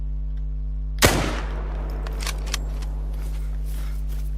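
A single hunting rifle shot fired at a puma in The Hunter: Call of the Wild, one sharp loud crack with a short decaying echo over a steady low hum, followed by faint clicks.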